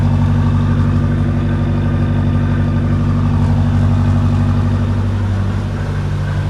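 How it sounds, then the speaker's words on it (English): A car engine idles steadily up close with the hood open, a constant low rumble and hum holding even throughout, with a slight dip in pitch near the end. "assuming idle's a little more higher just because there's less tension on the belt."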